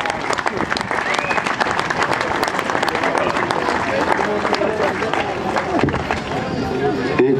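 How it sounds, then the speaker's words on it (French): Audience applause at the closing day of a 2012 event, dense steady clapping filling the whole stretch, with loud voices and cheering mixed in and speech over it. "On l'applaudit Jean-Luc, s'il vous plaît."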